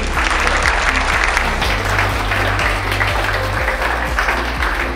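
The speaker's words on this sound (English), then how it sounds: "Can we have a round of applause for our students?" An audience at an education event applauds students with a full, steady burst of clapping, loud and sustained throughout, over a low steady background hum.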